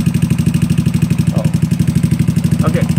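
A GY6 scooter engine idles close up with a fast, steady, pulsing chug and a strong low throb, while a few faint clicks and small noises come through over it.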